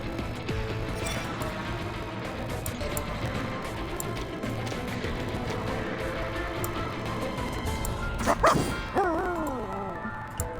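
A puppy barks in the video game Reverse: 1999, a few yips and barks near the end heard over steady game music and sound effects.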